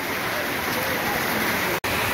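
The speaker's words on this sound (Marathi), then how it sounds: "इतका भयंकर पाऊस आला." Torrential rain pouring, a thick, even wash of hiss with no gaps except a split-second dropout near the end, loud and close with no voices.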